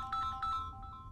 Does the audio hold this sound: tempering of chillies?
no